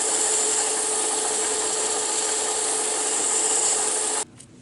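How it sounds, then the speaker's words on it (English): Steady, close rasping of 220-grit sandpaper rubbed by hand over a small wooden penguin Christmas ornament, continuous and loud, stopping abruptly just before the end; no talking. "I sanded it by hand with 220"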